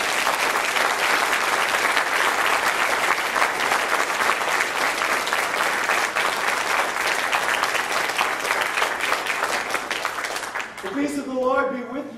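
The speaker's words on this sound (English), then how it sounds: "You may congratulate them with your applause." A Lutheran church congregation applauds newly confirmed youths, dense sustained clapping filling the sanctuary for about ten seconds before fading, followed by a brief voice near the end.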